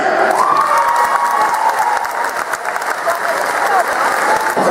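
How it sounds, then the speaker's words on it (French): An audience applauds and cheers a guest at a dinner event, loud continuous clapping from a crowd with scattered shouts and voices, close and unbroken throughout. "Merci d'applaudir, il est quelque part, il va se lever, que vous puissiez le saluer."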